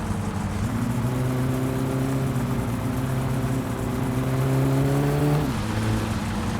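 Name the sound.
Satsuma car engine without exhaust, My Summer Car video game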